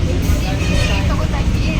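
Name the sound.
inside a moving bus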